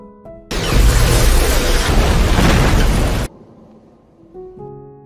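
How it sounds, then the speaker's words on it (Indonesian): A blaster shot in the animated film Astro Boy (2009): a loud, sustained blast of noise erupts suddenly, roaring for a few seconds before cutting off abruptly, leaving a softer rumble and faint tones. "Presiden Stone kemudian memunculkan tembakan dan membuat robot Toby terpental jauh"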